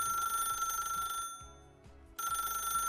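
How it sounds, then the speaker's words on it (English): A telephone rings in a video game with a bright, repeating electronic trill over soft background music, cutting off briefly before ringing again. "when suddenly the phone rang"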